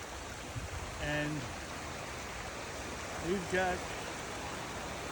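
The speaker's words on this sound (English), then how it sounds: "here's the waterfalls, folks. I can't get much closer. Unfortunately, the flow on the river is pretty heavy" A heavy-flowing waterfall at Spoon Creek Falls in Olympic National Forest gives a constant broad rushing hiss from nearby, with someone talking briefly over it twice.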